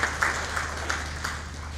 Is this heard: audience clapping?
yes